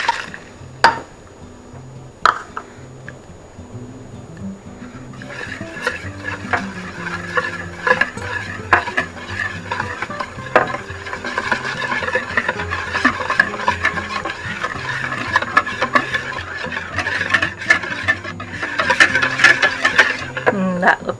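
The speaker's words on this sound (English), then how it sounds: "So we're just going to mix everything together." A spoon or whisk stirs vegan crêpe batter made with carbonated water in a bowl, a steady close wet swishing and patter running throughout with occasional sharp clinks against the bowl.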